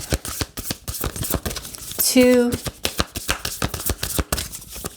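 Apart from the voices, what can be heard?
shuffling tarot cards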